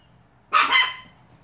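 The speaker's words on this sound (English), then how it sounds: "My puppy barks every time something moves in the house." A puppy gives a single sharp bark followed by a brief trailing yelp, close and loud against a quiet indoor room.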